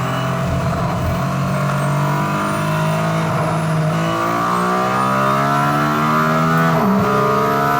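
A Mercedes AMG ONE taking a curve at about 230 km/h, a loud steady high-revving engine tone heard from inside, holding pitch with a slight dip near the end.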